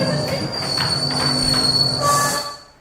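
A train rumbles loudly across the Forth Bridge near Edinburgh in a film scene, with steady rolling wheel noise and metallic squeal building to a hissing surge before fading out.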